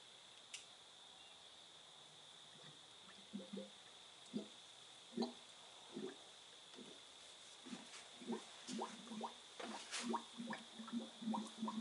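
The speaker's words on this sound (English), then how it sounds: "Fresh oil going in." Fresh oil poured through a funnel into a Kubota B5200 tractor engine makes soft glugging and bubbling pops, sparse at first then quickening into a rapid gurgling run, quiet and close over a faint steady hiss.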